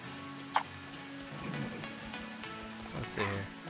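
Steady rain patters and hisses across a forest in the VR survival game The Forest, with a short sharp click near the start and faint murmuring beneath the continuous downpour.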